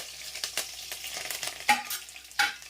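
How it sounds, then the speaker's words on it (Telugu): Mustard seeds and curry leaves splutter in hot oil, an uneven crackling sizzle with several sharp pops and spits close by. "ఆవాలు చిక్కిపోతున్నాయి"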